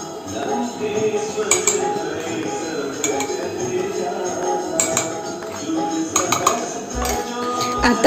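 A spoon clinks repeatedly against a vessel while milk powder is mixed in, with bright taps recurring every second or so over a busy household background.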